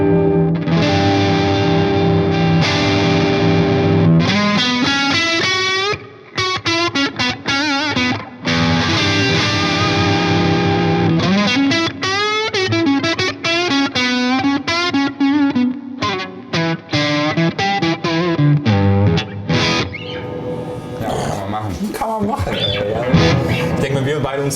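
Distorted electric guitar played through an Engl E-653 Artist Edition 50 amp on channel two without boost, gain turned up a bit, with loud sustained chords and fast single-note runs sounding continuously close up.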